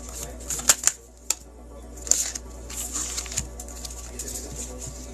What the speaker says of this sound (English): Penelope, these 3 cards flipped while I was shuffling.